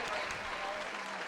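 Dense, steady applause from a small group fills the whole moment, close and even without distinct individual claps, with voices faintly mixed underneath.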